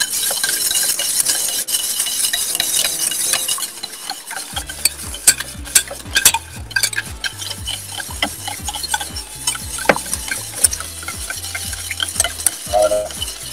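Butter sizzles and spits in a hot pan over moderate heat while a utensil stirs and scrapes steadily, with sharp clicks and bumps against the metal; the frying hiss is loud early, then stirring thuds dominate.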